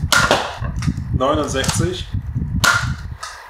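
Nerf Hammershot dart blaster fires a few sharp snapping shots, with a louder pop near the start and another around two and a half seconds, as a man counts numbers aloud between them.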